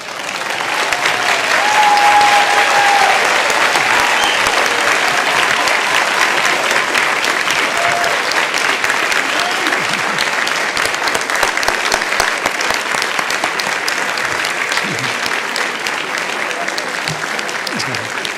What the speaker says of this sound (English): everyone please rise and join with me in applauding your spouses, families, friends, and loved ones for their support on your journey to this day